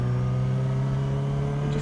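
A big truck on the road, apparently braking, gives a sustained, even mechanical drone with a strong low tonal hum that holds steady and unbroken, with no talk.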